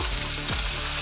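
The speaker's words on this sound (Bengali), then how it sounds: "এবার ক্যাপসিকামটা দিয়ে দেবো, ক্যাপসিকামটা দিয়েও হালকা করে একটু ভেজে নেবো।" Capsicum and carrot lightly frying in a pan, a close, continuous sizzle with faint stirring, no voices.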